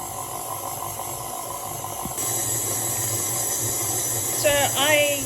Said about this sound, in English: I'm going to put it under my stand mixer and mix it together